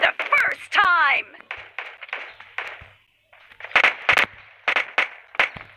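Sharp bursts of gunfire in the game PUBG Mobile during a team match punctuate a stretch of lively talk, coming in quick clusters with a short lull midway.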